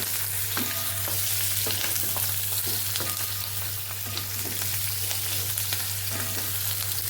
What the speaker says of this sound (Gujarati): મરચાંનો આપણે વઘાર કરી દેવાનો અને મરચાંને સરસ આપણે આમાં સાતડી લેવાના છે